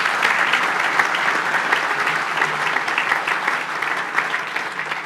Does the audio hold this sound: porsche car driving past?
no